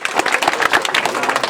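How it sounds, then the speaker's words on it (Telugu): An audience at a public meeting claps together in a brief burst of fast, scattered applause, moderately loud, with a voice faintly audible underneath. "మళ్ళీ చప్పట్లు కొట్టాలండి"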